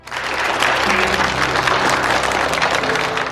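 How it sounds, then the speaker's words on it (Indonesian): People at a company meeting applaud a newly presented logo design with lively, sustained clapping from a room full of people, backed by a soft tonal hum. "membuat semua orang memberikan tepuk tangan yang meriah untuk mengapresiasi hasil karya Ansin tersebut"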